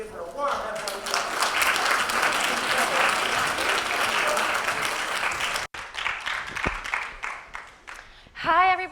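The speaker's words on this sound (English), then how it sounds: "Please give her a warm round of applause" An audience at a talk on identity and global challenges gives a warm round of applause, steady and dense for several seconds before thinning into scattered claps, with a voice starting to speak at the end.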